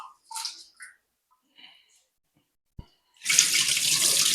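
Raw chicken being washed with turmeric and salt under a running kitchen tap, a few faint handling noises and a brief knock before a loud, steady rush of water starts about three seconds in and keeps going.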